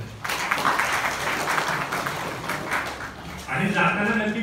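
An audience at an industry-academia conclave at Rajarambapu Institute of Technology, Sangli, gives loud, dense applause for about three seconds, then a voice begins speaking as it fades.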